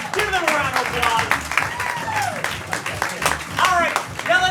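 Audience applause rises after an improv comedy scene at a student show, a crowd clapping beneath an excited voice and laughter, continuing steadily throughout.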